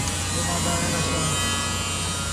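A repaired power window on a Mitsubishi Lancer runs with a steady, close electric motor buzz that holds evenly throughout, with a low hum underneath.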